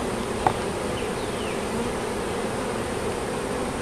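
Italian honey bees buzz steadily at an open hive during a check for adding a honey super, a dense close hum with no talk.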